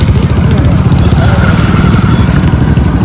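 A motorcycle engine runs steadily and loudly up close, a continuous rumbling drone amid heavy village traffic-jam noise.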